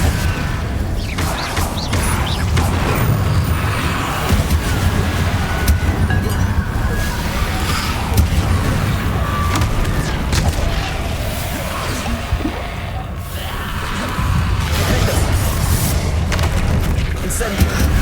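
Explosive spells like Bombarda and Confringo go off in the Hogwarts Legacy video game, a continuous loud barrage of booms, crashes and thuds during a battle with Inferi, with voices heard throughout.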